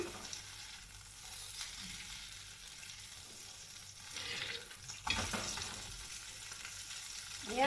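A burger patty fries in plenty of oil, a continuous close crackling sizzle with louder bursts and stirring noises now and then, no talking.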